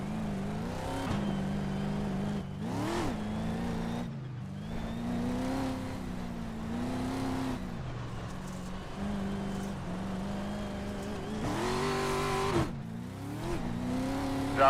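Racing truck engine revving and shifting on a dirt track in a NASCAR racing video game, a loud continuous motor with repeated rises and drops in pitch as it accelerates and eases off, heard alone.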